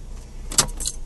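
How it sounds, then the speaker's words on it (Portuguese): A car engine is switched off and keys jangle in a brief, close burst of metallic rattling over a low rumble, with no talking. "Agora, desliga o carro."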